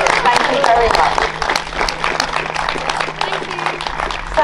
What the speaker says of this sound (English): Let's give them another round of applause as they go back to their seats.